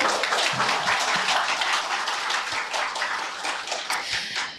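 Audience applause at a book talk as the author is welcomed on stage, dense and steady clapping from a crowd filling the room, continuous and fairly loud with no talk over it.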